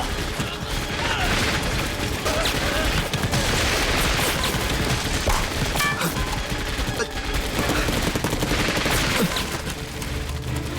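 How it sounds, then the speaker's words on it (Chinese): Sustained gunfire from inside a warehouse with more shots from a second warehouse across the way, dense rattling bursts and mechanical clatter running loud and continuous throughout. "你听，对面仓房也有枪声"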